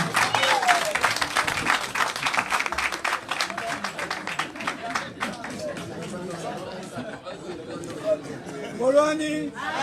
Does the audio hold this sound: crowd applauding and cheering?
yes